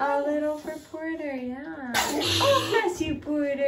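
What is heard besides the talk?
baby sneezing during bath time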